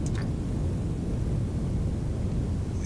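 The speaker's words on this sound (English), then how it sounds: "Sound like a jet engine over there." A machine in the Stationeers video game, set on Mars, gives off a steady, jet-engine-like roar: broad, loud and unbroken rumbling noise with no talk over it.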